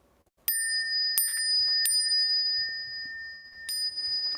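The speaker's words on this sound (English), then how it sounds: "I'll ring the bell." Small ceremonial bell struck four times before bowing at a Buddhist sutra lecture, each bright ringing strike sustaining and decaying, two in quick succession, a third soon after, and a last one after a longer pause.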